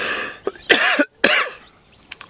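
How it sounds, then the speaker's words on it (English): A man coughs in two sharp, harsh bursts at close range, separated by a short silence, with a faint breathy catch near the end; he is outdoors by the water while fishing. "I've had this cough for like about a month now"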